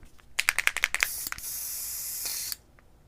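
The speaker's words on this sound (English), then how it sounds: "we're going to spray it with white first" An airbrush sprays white paint onto a model aircraft, first in about eight quick short bursts, then in one steady hiss that runs for over a second before stopping abruptly. The sound is close and fairly quiet, with no talk.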